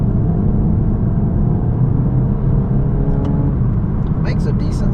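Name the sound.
VW Golf GTI EA888 engine accelerating in sport mode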